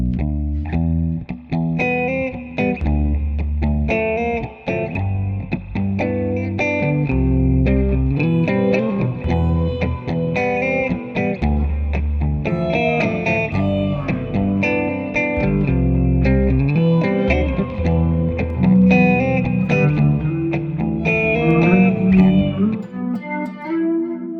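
Danelectro low baritone guitar played through a watery chorus effect, a continuous melodic line with sustained, shimmering notes and a steady rhythm, fairly loud and with no voices throughout.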